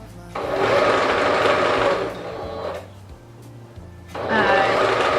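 A sewing machine stitches a plaid flannel cloth napkin in two loud, steady whirring runs separated by a short pause.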